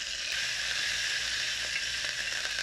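Steady, close sizzling of spices and chopped green chillies frying in hot oil for cabbage kootu, a continuous crackling hiss with faint pops throughout.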